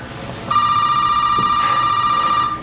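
A telephone rings with a steady electronic tone that begins abruptly and holds for about two seconds, loud and close, with no talking over it.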